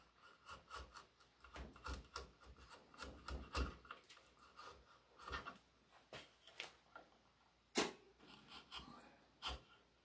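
Hand gouges carve waste wood from an old chair in quick, irregular scraping strokes, quiet and close, with a few sharper cuts standing out and no talk.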